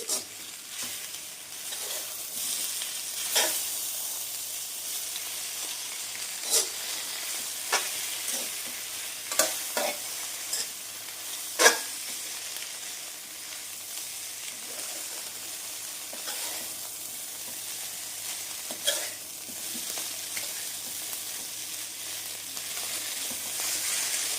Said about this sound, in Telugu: ఇవన్నీ ఒకసారి కలుపుదాం హైలో పెట్టి కలుపుకోండి